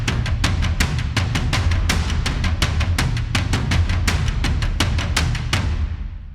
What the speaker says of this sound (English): here I introduced some of these sticks and they sound like this